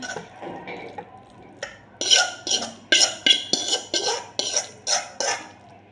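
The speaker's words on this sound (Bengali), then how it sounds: "এখন নুডলসটা ঢেলে নিচ্ছি" Hot cheesy Mr. Noodles are tipped from a pan into a bowl, with a run of close, clattering scrapes and knocks of utensil against dishware that fall into a quick, repeated rhythm, without talking.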